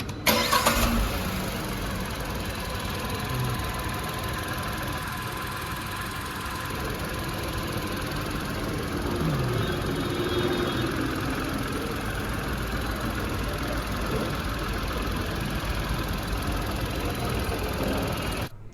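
A Tata Punch Adventure facelift engine starts with a short burst, then settles into a steady, even idle that runs close by for the rest of the clip.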